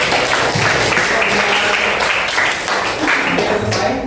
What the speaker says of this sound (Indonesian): Oke, tepuk tangan dulu ya buat kita semua ya.